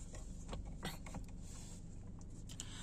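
Steering wheel tilt adjustment in an MG 5 car cabin gives quiet plastic creaks and soft mechanical clicks, a few short strokes close up with no talking.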